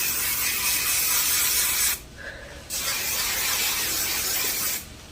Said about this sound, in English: I'm going to spray with my Aussie hairspray.